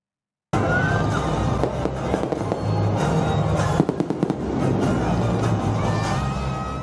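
Fireworks burst over Lusail Boulevard in Doha during New Year celebrations, a dense, continuous barrage of loud crackles and pops with a few sharper bangs.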